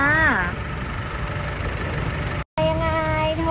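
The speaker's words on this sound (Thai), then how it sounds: "หน้าเครื่องนะคะเป็นเครื่องยนต์พันแปดเบนซินค่ะ" A 2016 Honda HR-V 1.8-litre petrol engine idles with a steady low rumble while someone talks over it, a brief gap cutting the sound near the end.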